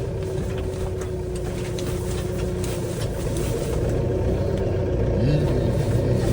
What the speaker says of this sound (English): That's really why I started the tractor